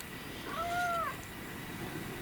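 A pet cat gives a single short, soft meow with a gentle rising and falling tone, heard indoors against quiet room noise.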